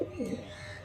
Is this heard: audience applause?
no